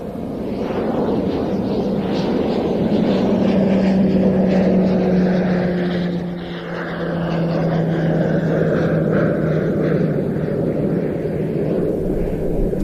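A primary training aircraft with retractable undercarriage departs at the Royal International Air Tattoo, its propeller engine a loud, steady drone that swells and holds as it passes.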